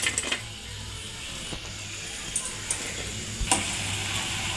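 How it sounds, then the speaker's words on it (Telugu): Jalebi dipped and stirred in sugar syrup makes faint wet sizzling and soft stirring scrapes, with a few light clicks and knocks spread through. "ఇప్పుడు మనం షుగర్ సిరప్లో డిప్ చేయడమే."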